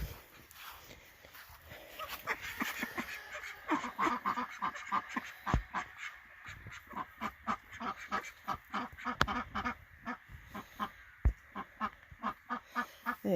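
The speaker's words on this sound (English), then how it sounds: "Over here is my first call duck batch" Call ducks in a backyard pen quack in a rapid, repeated chorus of loud, nasal honks, with the calls coming close and overlapping for the whole stretch.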